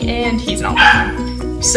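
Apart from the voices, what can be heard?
dog barking and whimpering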